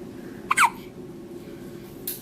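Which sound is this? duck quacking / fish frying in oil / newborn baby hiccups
newborn baby hiccups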